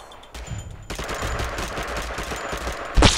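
Rapid automatic gunfire in PUBG, a dense burst of loud shots rattling close by for a couple of seconds, ending with a sharp, bright crack.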